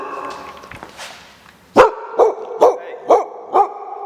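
A dog barks five times in a garage where a V8 swap into a Mazda RX-7 is underway, sharp, close and loud, evenly spaced over a few seconds after some quieter background noise.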